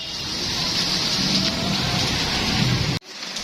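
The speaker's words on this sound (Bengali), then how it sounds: "বৃষ্টি একদম যেগুলো ময়লা ছিল সব ধুয়ে গেল" Steady, dense rain pours down close by, a continuous broadband hiss that holds evenly for about three seconds before cutting off abruptly.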